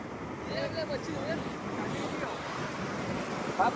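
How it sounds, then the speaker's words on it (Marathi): Strong wind roars steadily outdoors, buffeting the microphone, with a faint voice in the background. "हवा पण खूप आहे."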